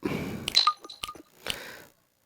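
Phone dialing in the Party Craft video game: a few short electronic beeps and clinks in a quick cluster, followed by a softer tone before the clip falls silent.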